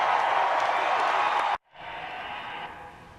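A crowd of supporters cheers and applauds at a Trump rally in Pensacola, Florida, a dense, steady roar for the first half that cuts out abruptly, then returns as a softer wash of cheering.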